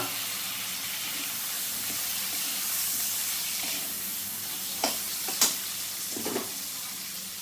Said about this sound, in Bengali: আমার মশলাটা ভেজে নেওয়া হয়ে গেছে, এর মধ্যে আমি ঝিঙেটা দিয়ে দিলাম